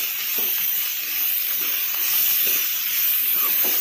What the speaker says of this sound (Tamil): இந்த பக்கம் வந்து தக்காளி வணக்கிட்டுருக்கேன்